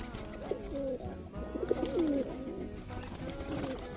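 Pigeons in a home loft give soft, repeated throaty coos, close and fairly quiet, with several overlapping calls over a low background hum.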